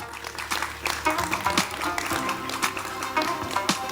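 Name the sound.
audience applauding as actors come on stage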